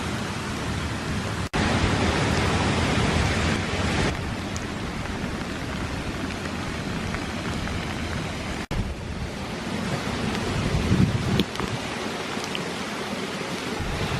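Rain falls outdoors around an off-grid treehouse retreat in Taranaki, a steady broadband hiss of drops with a couple of sharp clicks, constant and fairly loud throughout, no voices.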